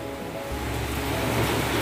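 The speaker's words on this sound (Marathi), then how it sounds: "आता हे पाणी उकळायला लागलं आहे" Water coming to a boil in a pot for making semolina modak, a steady rushing bubbling roar that swells slightly and holds close and loud, with no voices.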